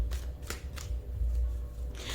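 Soft papery riffles and snaps of tarot cards being shuffled or drawn, several quick bursts spaced roughly a third of a second apart, close and quiet over a low background hum.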